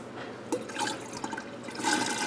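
Distilled water poured into an autoclave's reservoir, a steady close splashing trickle with a few brighter bursts of liquid, no talking.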